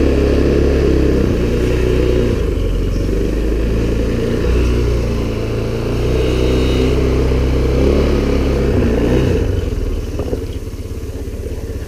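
A 2016 TaoTao ATA150G ATV engine revs and drones up close while riding, its pitch rising and falling with the throttle before easing off near the end, with no talking.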